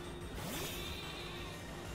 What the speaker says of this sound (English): Oh, awesome sheep.